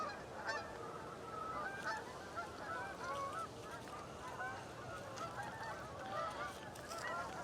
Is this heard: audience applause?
no